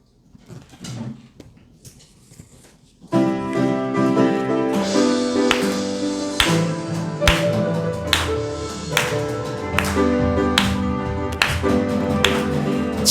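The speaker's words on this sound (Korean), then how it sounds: "우리 박수 치면서 함께 찬양해 볼까요?" At a Korean church service, a congregation claps steadily in time while singing a hymn with instrumental backing. The claps are sharp and evenly spaced, and they start after a short quiet spoken lead-in.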